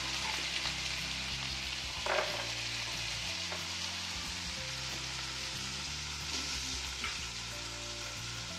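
Carrot, beans, capsicum, spring onion and peas frying in oil for paneer fried rice, a steady close sizzle with occasional soft stirring scrapes and clicks, alone and moderately quiet throughout.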